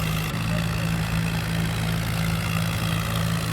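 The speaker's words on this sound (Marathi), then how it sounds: "इथून तासाला लागले बघा ट्रॅक्टर" A John Deere tractor engine drones steadily at close range while ploughing a field, low and constant with a deep hum, no pauses.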